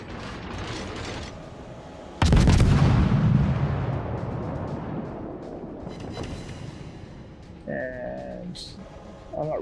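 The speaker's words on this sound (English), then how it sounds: "So I'm actually going to start shooting at this guy with the guns." A naval gun salvo in the World of Warships video game lands as one loud boom followed by a long rumbling decay, then softer mechanical clanks and whirs.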